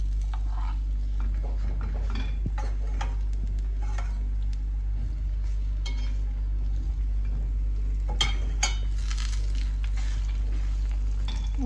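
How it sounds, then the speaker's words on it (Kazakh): Layered kattama flatbread frying in oil on a hot pan, a continuous sizzle over a steady low hum, with scattered scraping and clinking from a utensil working the bread, loudest around the middle. "Қызып тұрған табамызға Каттаманы салып пісіреміз."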